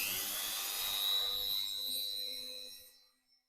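A Dremel rotary tool runs on a workbench with a steady high-pitched whine that rises into a sustained tone, then cuts off near the end of the few seconds.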